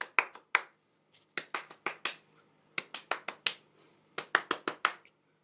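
Bare hands clapping in uneven bursts, about twenty sharp claps in quick clusters separated by short pauses, close and crisp with no talking.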